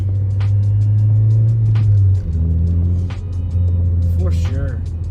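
A 9th-generation Honda Civic Si drives with a loud, steady engine drone that drops in pitch at each gear change, two shifts in quick succession, with road rumble throughout.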